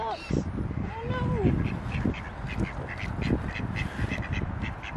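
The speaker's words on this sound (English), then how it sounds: "Seagulls are bullying the ducks." Several ducks quack in short, nasal bursts close by as seagulls harass them, mixed with other bird calls and people chattering in the background.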